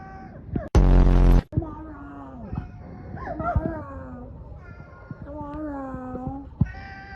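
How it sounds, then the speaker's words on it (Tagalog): A cat meows repeatedly in a home, several drawn-out rising and falling meows close by, with a loud broadband burst early on and a person talking softly in between. "Meow."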